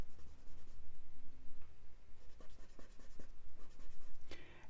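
Charcoal drawn across paper in close, steady scratchy strokes, building up to a run of short dabbing marks near the end; no talking.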